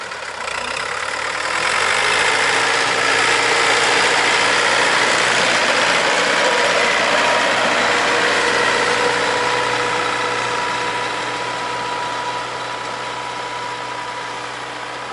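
A DMTZ mini tractor engine runs steadily while hilling potatoes with hedgehog weeders, giving a close, continuous mid-pitched drone that swells slightly early and then holds level.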